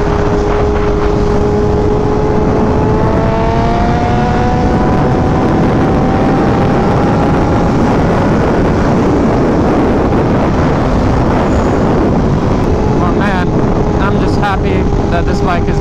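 A BMW M1000RR sport motorcycle fitted with a full titanium SC exhaust rides steadily, its engine drone rising and falling in pitch under heavy wind rush, with a voice talking over it near the end.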